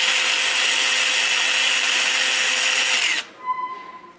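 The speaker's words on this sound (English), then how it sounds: "we will do the drilling operation" A power drill running at 3000 RPM bores into aluminum in a smart factory, a loud, steady high-pitched whine for about three seconds before it cuts off abruptly, leaving a short clink and faint tool noise.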